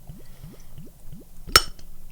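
Home-brewed English porter beer glugs from a bottle into a glass in four quick rising gurgles, then a sharp clink and splash as the pour finishes, close and alone.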